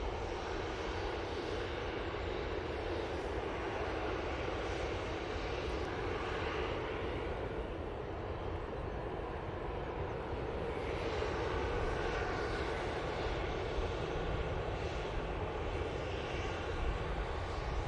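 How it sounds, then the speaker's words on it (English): An EasyJet Airbus A320 jet airliner arriving at Manchester Airport, inbound from Nice, gives a steady, loud, broadband engine roar that holds evenly throughout, close and continuous with no talk. "we do have an inbound from Nice. It is the Easyjet A320."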